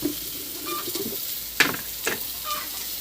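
Chopped onion and garlic sautéing in a hot pan for a squash and eggplant coconut-milk dish: a steady close sizzle with a few stirring scrapes and clinks of the utensil against the pan.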